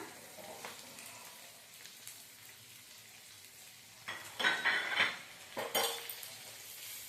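Onions drop into hot oil in a pan for a Telugu bottle gourd dal, giving soft sizzling with a couple of louder bursts of frying and stirring clatter midway.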